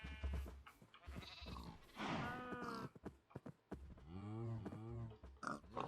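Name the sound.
cow mooing in the video game Minecraft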